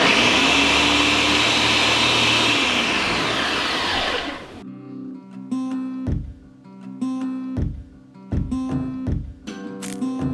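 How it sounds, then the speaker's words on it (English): A blender whirs loudly, frothing a pumpkin spice latte, a dense steady roar that cuts off about halfway, followed by quiet clinks and knocks from kitchen handling. "I like to blend like a good 30 seconds, and it'll make it extra frothy."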